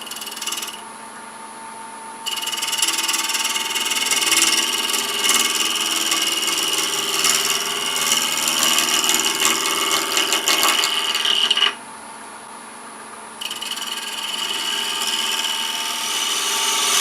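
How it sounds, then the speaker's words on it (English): A small bowl gouge cuts a wooden garlic keeper box on a lathe. The steady lathe hum turns into a louder, rough scraping drone for about nine seconds, then drops back to the motor's whine before the cutting resumes. "we're going to use a bowl gouge"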